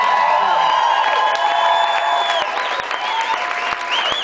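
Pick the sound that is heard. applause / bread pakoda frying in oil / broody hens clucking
applause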